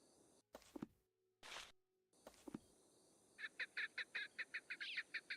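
A partridge calls in the Sherlock Holmes: Nemesis video game, a quick run of sharp, evenly spaced honking notes that repeat about a dozen times, following a few louder thumps and rustling game sounds.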